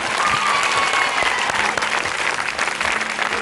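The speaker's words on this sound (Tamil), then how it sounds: "நல்ல கைத்தட்டல்" Dense, steady applause from a studio audience at a Tamil television game show, loud and sustained throughout with many hands clapping together.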